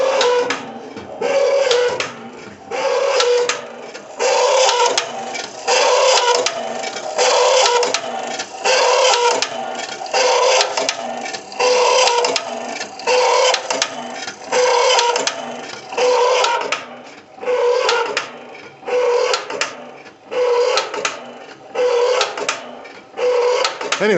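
The pop-up headlight mechanism on a 1980 Triumph TR7 runs with a steady mechanical whir and rattle, pulsing in rhythmic bursts for about twenty seconds, loud and close.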